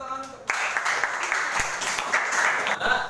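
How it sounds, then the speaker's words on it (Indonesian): Applause in a classroom, a steady burst of clapping that starts abruptly and fills the room over talk-level noise, continuing evenly to the end. "Tepuk tangan."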